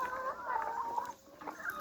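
Chickens cluck softly on a farm during morning egg collection, a few low, drawn-out clucks and murmurs, fairly faint and close, with no talk over them.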